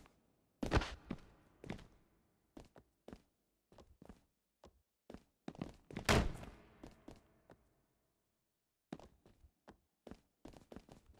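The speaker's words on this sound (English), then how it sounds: "Earth-shaking power slam." Heavy body-slam thuds and impacts in the WWE 2K20 wrestling video game during a TLC match: a scattered series of sharp, close thumps with one especially loud crash near the middle.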